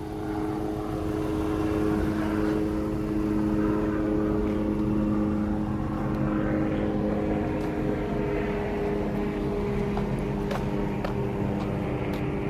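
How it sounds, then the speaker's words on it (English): A loud, continuous engine drone and rotor rumble of a helicopter passing close overhead at a fatal car-pedestrian collision scene in Huntington Beach, steady throughout with no voices. "Now the helicopter's coming over top,"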